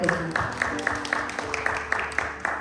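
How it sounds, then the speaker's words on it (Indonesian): A church congregation claps together in a steady rhythm at a worship service, the regular beats mixed with room noise and a faint murmur. "kita mau tepuk tangan buat Tuhan"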